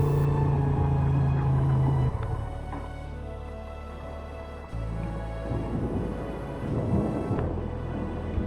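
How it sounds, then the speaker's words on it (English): Heavy rain pours down amid strong gusting wind in murky weather, a dense, steady roar with deep rumbling underneath, loud and continuous throughout. "Rain pouring"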